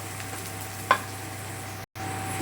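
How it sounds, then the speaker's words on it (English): Onion, garlic and red chili sautéing in a pan for a kidney bean dish, a faint low sizzle with one brief clink of a utensil and a momentary dropout near the end. "Keep saute."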